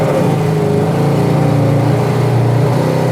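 A 1966 Pontiac GTO engine pulls hard under acceleration, a loud, steady, throaty drone that stays close and constant from start to finish.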